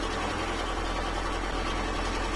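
A car engine runs in the video game The Long Drive while held near 85, a steady, loud droning rumble with a low hum and even broadband roar throughout, no speech.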